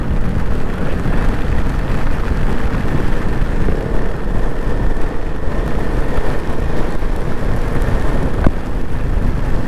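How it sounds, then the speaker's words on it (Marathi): Heavy rain pouring during a motorcycle ride, a loud, dense, unbroken roar of rain and wind noise with engine rumble blended in, constant across the whole stretch. "भाई काय पाऊस आहे, खतरनाक जोरात पाऊस आलाय"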